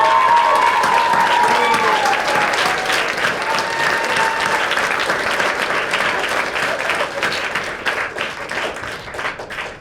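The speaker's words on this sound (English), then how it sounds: "So a massive, huge round of applause for them for making it happen." Loud crowd applause at a startup event closing ceremony, dense clapping at full strength that gradually thins and softens toward the end.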